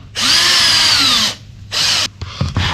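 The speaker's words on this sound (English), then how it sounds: "It's more properly seated once you put the screw in all the way. When going in, always use the slow speed." A power drill drives screws into an oak side step at slow speed: one long high whine of about a second, then a shorter burst and a few brief stuttering pulses, loud and close with no talk.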